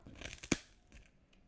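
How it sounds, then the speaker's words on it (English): A bite into a stale rice cake, heard as one sharp, close crunch followed by quieter chewing crackles. "I really hope chewing doesn't bother you"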